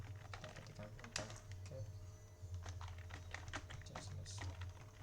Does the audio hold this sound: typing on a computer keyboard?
yes